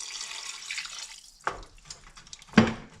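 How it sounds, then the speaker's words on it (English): Two cups of water poured into a cooking pot of tomato, onion and cashew for a stuffed capsicum and chicken keema dish, heard as a short splashy stream followed by a couple of sharp drips and splashes. "Now I'm going to add 2 cups of water"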